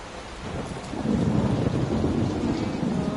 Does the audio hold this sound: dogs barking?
no